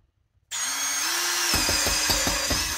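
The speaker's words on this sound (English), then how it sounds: "I'm going to drill a hole big enough through the center of this thing" A power drill spins up and bores a hole through PVC during a Garmin Striker 4 ice fishing setup, a loud steady whine joined by rapid grinding chatter as the bit bites into the plastic, close up and alone.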